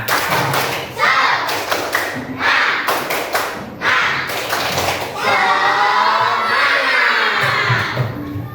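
A class of fifth-grade schoolchildren doing the tepuk semangat clapping cheer, rhythmic bursts of group claps and thumps mixed with children's shouted chanting, loud and close, ending in a sustained chorus of voices.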